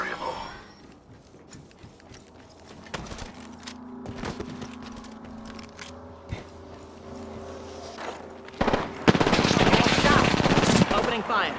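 Machine gun fire in Apex Legends, scattered single shots at first, then a loud sustained burst near the end, over a low game hum with voices talking throughout.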